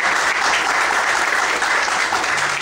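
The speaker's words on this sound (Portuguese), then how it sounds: "Vamos aplaudir bem forte ao Senhor para aqui." A congregation at a Sunday morning church service applauds loudly, a dense, steady wash of clapping that fills the space throughout without pause.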